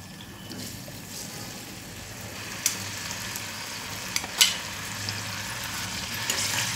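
Tomatoes and curry leaves frying in hot oil in a pan for a traditional catfish curry, a steady close sizzle with a few sharp pops and spatters, no voices.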